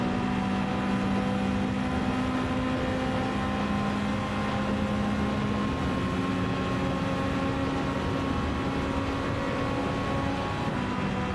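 Race car engine in Gran Turismo 7 holds a steady, continuous drone with a sustained tonal whine throughout, a constant mid-level roar with no voices.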